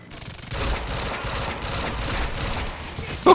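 Rapid automatic gunfire from a heavily recoiling gun in the video game Quantum Break, a loud continuous fusillade of dense overlapping shots that lasts throughout.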